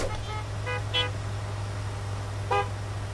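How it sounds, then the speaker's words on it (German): Car horns honk at a crash in the Gas Station Simulator video game, two short toots alongside a sustained blare over a steady low traffic drone, with no voices. "Warum hupt ihr denn hier?"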